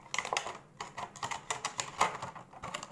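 Rapid, crisp snipping and clicking of scissors cutting material for a homemade radiator humidifier, a quick irregular series of sharp close-up snips.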